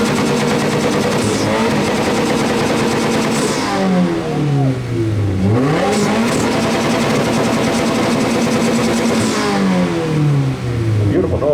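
Car exhausts revving hard at a BoxerFest exhaust competition car show, loud sustained engine roar with repeated rising and falling sweeps, crowd voices faintly underneath.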